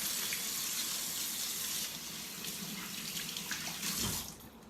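Hands washed under a running kitchen sink tap after handling raw meat, a steady close gush of water that shifts as the hands move, then tapers off near the end.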